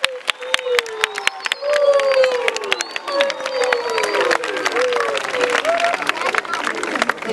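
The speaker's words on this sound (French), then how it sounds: "On peut encore applaudir pour ça." Applause with cheering from a school crowd at a Kinshasa ceremony honouring a former student, dense clapping mixed with voices and shouts, steady and fairly loud throughout.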